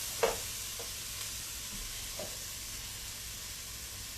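Ground meat browning in a pan on a stove gives a soft, constant sizzle and hiss, with a few faint scrapes and taps of stirring, quiet and close.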